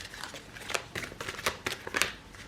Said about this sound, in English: I suck at shuffling, by the way